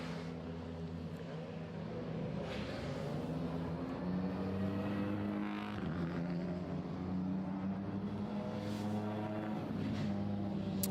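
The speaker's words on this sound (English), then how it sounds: "Cars out on circuit." TCR touring race cars lapping the Slovakia Ring circuit in the wet on wet tyres, a steady layered engine drone that holds loud and constant throughout, with rising and falling tones as cars pass nearby.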